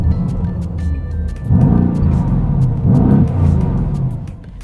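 A Mercedes-AMG GT C coupe's engine rumbles on a drive, with two swelling revs that rise and fall over a deep, steady growl, heard close and without talk.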